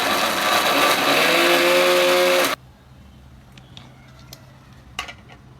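A mixer grinder whirs loudly and steadily through medu vada batter, then cuts off abruptly, leaving near-quiet with a few faint clinks of a jar and utensils close by.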